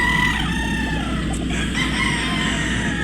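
Chickens cluck and call continuously and close by in a pen of fighting roosters, a dense steady flock din with a rooster crow blending in.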